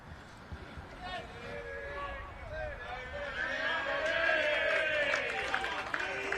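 Spectators at a lawn bowls pennant match on a far rink raise a rising, sustained cheer and chatter that builds from moderate to louder over several seconds, heard at a distance in an open outdoor setting.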